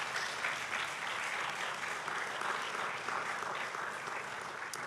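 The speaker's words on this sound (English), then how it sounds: "Let's give them a round of applause." Audience applause fills a primary and secondary schools literary competition award ceremony, a dense, steady wash of many hands clapping at even volume throughout, with no voices standing out.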